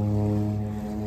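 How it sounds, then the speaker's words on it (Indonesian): A propeller seaplane drones steadily over a lake near Seattle, its engine a loud, unbroken tonal hum with strong low harmonics throughout. "Itu ada pesawat yang bisa mendarat di air."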